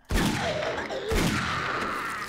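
Gunfire in the survival video game 7 Days to Die: two sharp shots about a second apart, each followed by a ringing tail and game ambience.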